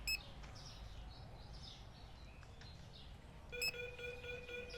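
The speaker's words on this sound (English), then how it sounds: "that is our alarm system saying someone just got some stuff for free" Store security alarm in the Supermarket Simulator video game going off with a short bright electronic chirp near the start, then a steadier repeating tonal beeping in the last second, faint against a quiet background.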